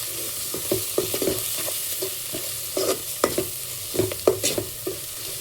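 Onions with a pinch of turmeric fry in a pan while a spoon stirs them, giving repeated scraping clatters over a steady close sizzle, with no voices.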